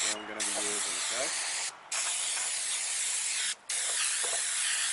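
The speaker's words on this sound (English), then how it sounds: "Gonna spray it on." Aerosol cleaner sprayed in long hissing bursts onto anchor winch parts on a Macgregor 26 sailboat, three sustained close sprays separated by brief pauses, with a short voice at the start.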